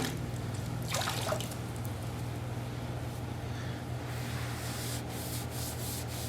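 A sponge sloshes and rubs in a bucket of water during a vinyl tile repair cleanup, giving a soft continuous watery scrubbing with a brief louder splash near the start, close by, with no talking.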